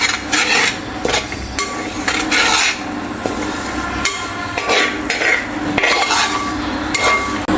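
Spices stirred and scraped in a pan for fish pickle, a loud metal spoon rasping against the pan in repeated strokes with a few knocks, close and alone.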